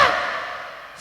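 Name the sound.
performer imitating a crow's caw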